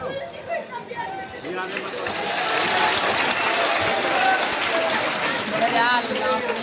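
An audience at a religious gathering bursts into steady clapping that swells after a couple of seconds and holds loud and dense to the end, with a voice speaking over it.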